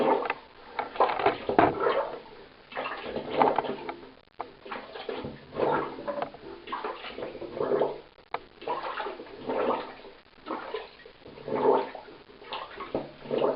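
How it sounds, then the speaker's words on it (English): Laundry plunged by hand in a tub of soapy water off grid, repeated rhythmic sloshing and gurgling surges of water roughly every couple of seconds, close and fairly loud, with no talk. "and basically plunge it around some more. You can see the soap coming out."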